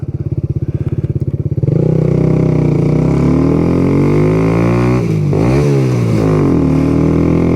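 A Kawasaki Z125 Pro motorcycle fitted with an O2 eliminator idles with a rapid, loud putter, then revs up as it pulls away, the engine note rising, dropping briefly at a gear change and climbing again, close and steady.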